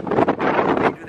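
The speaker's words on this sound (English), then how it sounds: "Today it's gonna be so windy." Strong desert wind gusts buffet the microphone, producing loud low rumbling and roaring bursts that rise and fall over a second.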